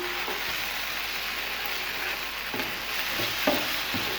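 A chicken cube goes into a thick, creamy garlic butter sauce bubbling in a pan, making a loud, unbroken sizzling hiss with a few soft stirring knocks near the end and no voices.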